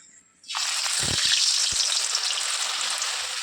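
Adai batter hits hot oil in a kadai and bursts into a loud, steady sizzle that starts abruptly and holds on, with a few soft low knocks of the pour near the start.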